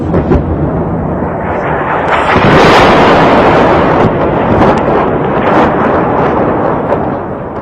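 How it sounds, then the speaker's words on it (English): A loud, sustained roaring blast swells and slowly fades, like a shell or missile exploding in Sarajevo, rough and heavy with wind-like rumble throughout. "Shells and missiles, coming in ones, in twos, in threes, random and indiscriminate"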